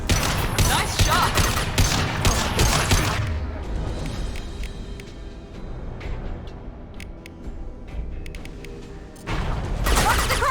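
Gunfire in the Mass Effect 2 video game, with dense bursts of rapid automatic shots at the start and end and sparser distant pops and impacts between, while combatants shout over the fighting.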